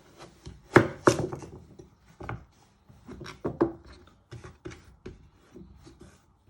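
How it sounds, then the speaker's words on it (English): A knife chops peeled carrots on a cutting board, giving a loose series of sharp, close knocks against the wood, a few heavier strikes early and lighter cuts spread out after, with no talking. "So once you have peeled your carrots, you first want to chop it down the middle."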